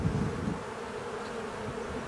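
Honeybees buzz over a hive brood frame in a spring inspection, a soft, steady, close hum with a brief louder swell at the start.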